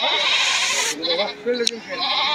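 Goats bleat in short wavering calls amid a busy crowd of voices at a rainy-day goat market in Kaitla, close by and fairly loud.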